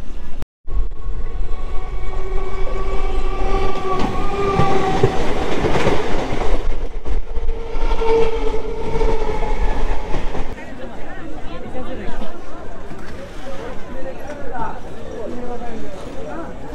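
Uttarbanga Express train running just after Bidhannagar station on the way out of Sealdah, a loud, steady interior rumble and rattle of the carriages with rhythmic wheel clatter, while people talk over it.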